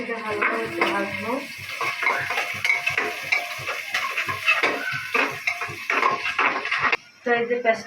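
Onion fries in oil in a pan while a metal utensil stirs it, giving a steady clatter and scrape over a continuous sizzle. The sound is close and busy, with brief voice sounds now and then.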